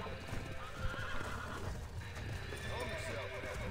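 A horse in the Red Dead Redemption video game snorts and whinnies while hooves clop, with a voice speaking over the animal sounds and a faint ambient game backdrop.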